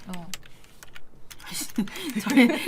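Typing on a computer keyboard in quick, irregular bursts of close key clicks, with a person talking over part of it.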